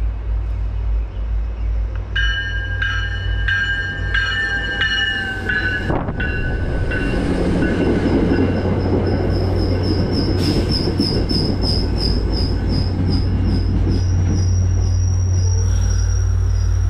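An MBTA commuter rail train on Marathon Monday rolls past close by with a steady heavy rumble, while high wheel squeals ring out in bursts early on and again as a sustained screech later.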